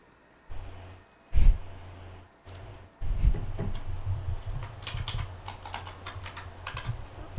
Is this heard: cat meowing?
no